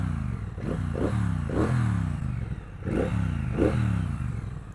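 Triumph Bonneville Bobber 1200 twin-cylinder motorcycle engine, a steady throbbing rumble with repeated rising revs as it pulls through the gears, heard up close.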